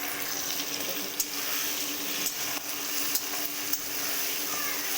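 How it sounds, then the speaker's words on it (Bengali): Small river shrimp frying with onion in a pan, a steady broadband sizzle with a few sharp spatters and clinks from stirring, close and continuous. "পেঁয়াজও ভাজা হবে, চিংড়িও ভাজা হবে।"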